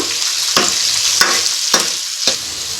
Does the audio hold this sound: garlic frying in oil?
yes